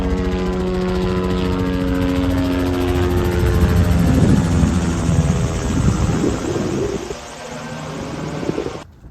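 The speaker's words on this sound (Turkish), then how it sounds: "Her yarım saatte bir mutlaka bir helikopter geçiyor." A helicopter drones loudly and steadily with a pulsing rotor beat, holding close overhead before fading slightly near the end.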